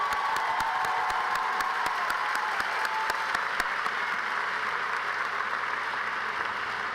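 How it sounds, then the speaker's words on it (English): Sustained crowd applause for the graduating class of 2024 at a college commencement ceremony: steady dense clapping from a large audience, with a few sharper individual claps standing out near the start, continuing evenly for several seconds. "Let's give them another round of applause"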